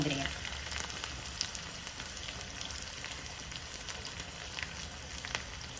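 Green chili, dried red chili and curry leaves sizzle steadily in hot oil for a tempering, making a dense, even crackle with scattered sharper pops and no voices.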